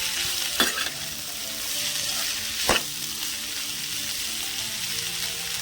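A pan of beans curry simmers on a low flame with a continuous soft sizzle, broken twice by brief scraping stirs of a spoon in the pan.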